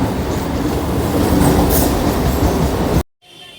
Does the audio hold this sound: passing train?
yes